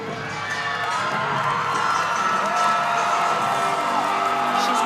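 Crowd at a college gymnastics meet between Michigan and Ohio State cheering and whooping loudly after a high beam score, a sustained roar with shouts that swells and holds, and a commentator talking over it.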